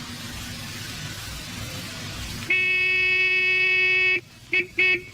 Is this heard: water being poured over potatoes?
no